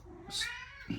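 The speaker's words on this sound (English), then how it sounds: "that's the cat in the background" A cat meows faintly in the background, one drawn-out call near the middle followed by a short second cry, with a quiet room around it during HO scale model building.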